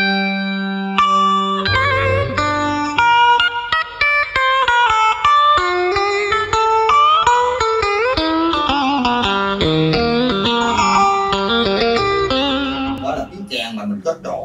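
Electric guitar through a Nux MG300 pedal set to a phaser and horn tone plays a continuous melodic run of sustained, bending notes, loud and alone, for traditional Vietnamese music.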